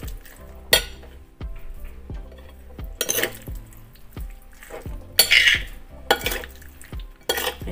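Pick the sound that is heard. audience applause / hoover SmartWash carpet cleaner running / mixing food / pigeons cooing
mixing food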